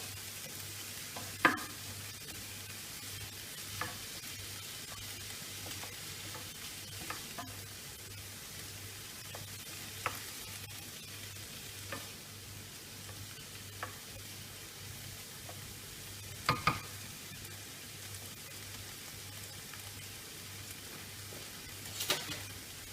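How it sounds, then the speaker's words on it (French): Beef faux-filet stirred in a pan with a little water over low heat, a soft steady sizzle under scattered utensil scrapes and taps against the pan, close and fairly quiet, with no talking. "On remue sur peu d'eau jusqu'à cuisson."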